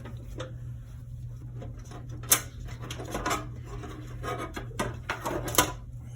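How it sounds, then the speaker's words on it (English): A Phillips or flathead screwdriver loosens a snug thumb screw on a CyberPowerPC gaming rig case, giving soft scraping and rubbing with a few sharp metallic clicks over a steady low hum, close and quiet, with no voices. "you can take a Phillips or a flathead and just get it started"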